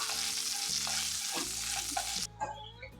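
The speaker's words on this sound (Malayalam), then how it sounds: "അതിനുശേഷം നമുക്ക് ഇതിലേക്ക് ഒരു 1/4 ടീസ്പൂൺ നല്ല ജീരകം ചേർത്ത് ഒന്ന് മൂപ്പിച്ചെടുക്കാം." Cumin seeds crackle in hot oil in a home kitchen pan, a dense, close hiss with a few small pops. The hiss cuts off abruptly near the end, leaving only faint clinks.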